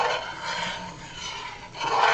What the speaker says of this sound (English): Stir and stir some more.